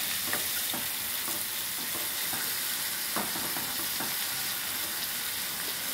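Raw mango pieces fry with tomato and garlic in a pan for a drumstick-mango curry, giving a steady close sizzle with scattered soft stirring clicks.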